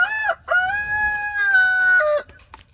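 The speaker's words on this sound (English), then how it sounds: "One's a hen, one's a rooster." A rooster crows loudly and close by in one long drawn-out call, with a brief clucking note from a hen just before it.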